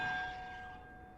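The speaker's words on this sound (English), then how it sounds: "Perhaps the map contains No. clues about the order I'm supposed to ring the bells in." A single bell strike in Hogwarts Legacy rings out bright and clear at first, then fades into a lingering metallic hum over about a second, alone without any talk.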